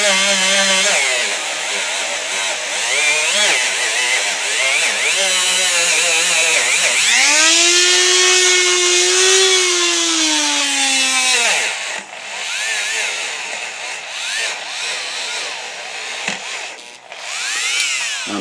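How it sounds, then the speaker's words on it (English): Wire cup brush on a power drill scrubbing crud off a sewing machine needle bar, a loud whining grind that rises and bends in pitch as the tool bites and is eased off. "Let me get a smaller cup brush in there as well."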